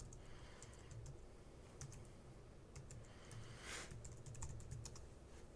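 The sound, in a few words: typing administrator username and password on a computer keyboard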